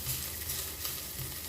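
Onion sautés in a pan for a kinilaw na labong dish with a quiet, steady sizzle and the soft scrape of stirring, close and faint with no talking.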